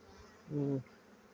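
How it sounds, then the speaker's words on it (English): A bee caught in a spider web near a hive gives a short, loud buzzing burst lasting about a third of a second, with steady harmonic drone, and nothing else around it. "there's another big spider, and it's actually trapped this bee"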